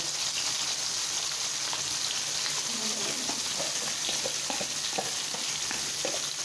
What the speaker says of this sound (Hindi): प्याज को हमने ज़्यादा फ्राई नहीं करना, हमने हल्का सा फ्राई करना है।